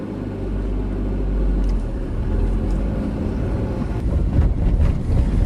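Car engine pulling away during a driving lesson on a one-way street, snowy conditions, a steady low rumble that swells slightly as the car gains speed, close and continuous with no talk.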